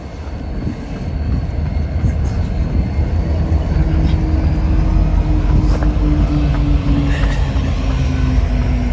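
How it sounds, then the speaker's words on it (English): Railway locomotives climbing up a mountain pass to help a train descend, a steady loud low rumble and drone throughout with a rising engine tone, heard close from a trail; no voices. "train engines are on their way up to the top of the pass to help a train come down"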